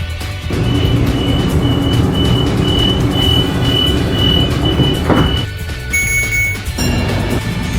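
A Sydney train is dispatched and pulls away from the platform. A loud, continuous rumble of rail and motor noise carries a thin high whine, then eases and shifts near the end.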